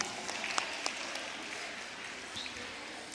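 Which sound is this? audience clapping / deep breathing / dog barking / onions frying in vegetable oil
audience clapping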